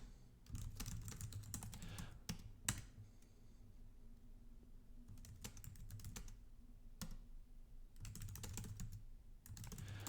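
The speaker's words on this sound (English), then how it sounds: "I can type as fast as I want." A computer keyboard is typed on in quick bursts of soft, close clicking with brief pauses between runs, set against a low, faint background.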